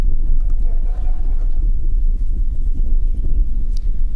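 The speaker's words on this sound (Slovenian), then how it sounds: "In tako kot naši prireditvi, nad vse nagaja veter." Strong wind buffets a microphone at an outdoor event at Ljubelj, a loud, constant low rumble with gusty fluctuations throughout.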